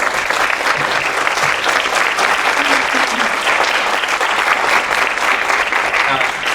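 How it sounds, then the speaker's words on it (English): A large audience gives a panel discussion a sustained round of applause, steady dense clapping that stays loud and even across the whole stretch with no talking. "Let's give our panel one more round of applause."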